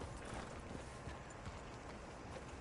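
Horse hooves clip-clop at a steady trotting rhythm in Red Dead Redemption 2, soft and fairly faint over a constant background hiss, with no talking.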